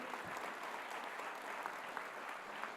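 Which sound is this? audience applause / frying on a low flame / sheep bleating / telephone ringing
audience applause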